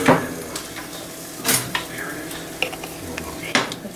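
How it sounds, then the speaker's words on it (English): A spoon scrapes and knocks through chicken taco filling with cilantro paste in a pot: a quick stir of irregular clinks and scrapes over a low simmering sizzle, close and fairly loud, with no talking. "I just gave it a quick stir."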